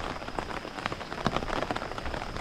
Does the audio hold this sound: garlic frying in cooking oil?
no